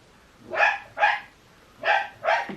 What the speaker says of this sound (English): And it's not a video without my dog barking.